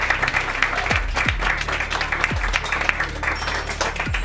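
A live audience at a fashion house presentation applauds the designers with steady, dense clapping that runs throughout, while a few lower thumps sound beneath it.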